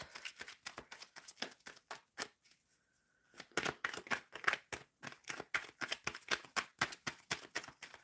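Tarot cards are shuffled close up in quick, soft riffling bursts, with a short pause partway through before the rhythmic shuffling resumes, faint and with no talking.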